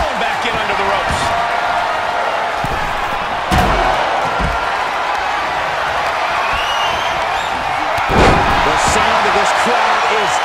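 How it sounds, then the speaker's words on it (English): A roaring wrestling arena crowd fills the space continuously at deafening volume, with sharp slams and impacts breaking through the din near 3.5 and 8 seconds. "This crowd is deafening"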